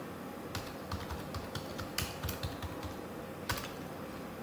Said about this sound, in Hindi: आप जो भी चीज टाइप करोगे वो यहां पे शो नहीं करेगा